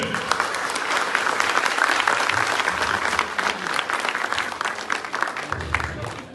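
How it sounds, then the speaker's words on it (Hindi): Loud, dense crowd applause at a women's empowerment award event in India, continuous energetic clapping with a few low thumps near the end and no clear speech. "आपकी ताली उनको ले जा सकती है ऊंचे मुकाम पर। एक बार जोर से।"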